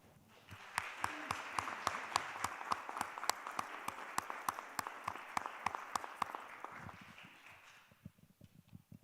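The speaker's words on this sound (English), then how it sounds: "Let's give them another round of applause, please." Audience applause at an education and diversity forum: a burst of many hands clapping, dense and steady for about eight seconds before tapering off into a few scattered claps.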